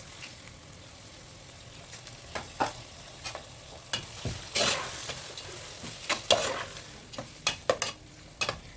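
Fresh tomatoes stirred into a vegetable sauce in a pot. A soft, steady sizzle sits underneath scattered scrapes and clinks of the spoon against the pan, some louder than others, with no talking.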